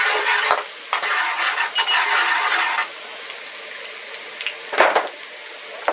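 Ginger being stirred into a tatsoi and beef stir fry in a hot pan, with a bright sizzle and scraping strokes that fade to a quieter hiss, then a couple of sharp utensil knocks.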